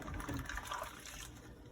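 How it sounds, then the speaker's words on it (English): Warm water runs over a respirator shell as it is rinsed, a steady close splashing and trickling that continues through the short stretch with no speech. "And then rinse. The water's just warm."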